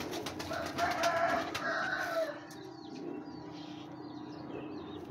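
Soft, low pigeon cooing murmurs close by, with a brighter burst of bird calls in the first two seconds before settling into quieter ambient cooing.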